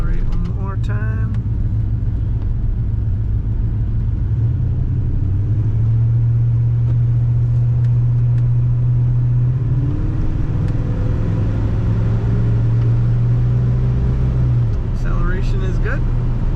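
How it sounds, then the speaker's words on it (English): A 1985 Chevrolet El Camino's engine rumbles steadily from inside the cab, rising in pitch as it accelerates through a roundabout drive, holding a loud droning tone before easing off near the end. "Go around this roundabout and accelerate one more time."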